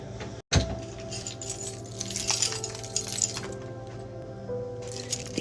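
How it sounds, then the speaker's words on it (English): Keys jangle and clink in a door lock, a few close metallic rattles and taps over a steady low room hum, with a sharp handling knock near the start. "The keys in my door."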